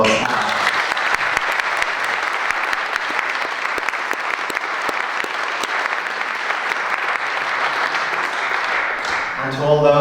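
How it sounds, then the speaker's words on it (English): Sustained applause from a crowd at a farewell ceilidh for a departing minister, clapping steadily for the helpers for about nine seconds before fading, with a voice starting up at the very end. "I'd love to give them a round of applause"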